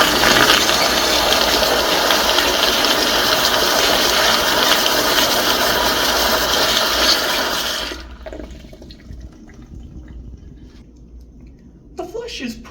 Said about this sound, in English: Now let's take a look at a flush.